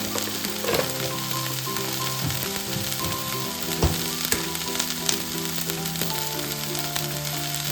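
Grated coconut, turmeric and spices frying in a pan for munagaku chutney, a loud, continuous close sizzle with occasional stirring scrapes, while a faint tonal hum runs underneath.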